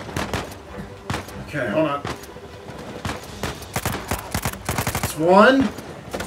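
Gunfire aimed at the player in the video game Uncharted 4: bursts of machine-gun fire and single shots crackle throughout, with a loud close volley near the end, while someone talks over the shooting.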